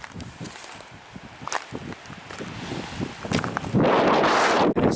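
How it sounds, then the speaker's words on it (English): Strong wind gusts buffet the microphone on a desert hiking trail among barrel cactuses and lava rocks, with footsteps crunching at first, then a loud roaring blast of wind swelling near the end. "Whoa, that wind is strong."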